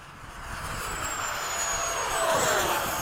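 A model F-5 jet's ducted fan runs at full throttle, a steady airy roar with a thin rising whine that builds gradually and stays loud throughout.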